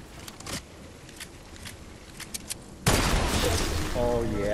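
Video game gunfire: scattered sharp shots and footstep-like taps, then a burst of louder continuous firing near the end with a voice talking over it.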